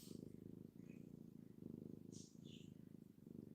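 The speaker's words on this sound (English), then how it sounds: "She's purring." A cat named Ollie purring up close, a soft rhythmic rumble pulsing in steady inhale and exhale cycles, with faint voice or small noises now and then on top.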